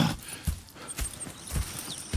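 Horses walking in the open-world western game Red Dead Redemption 2, with slow, regular clip-clop hoofbeats about every half second over a faint background, with no talk.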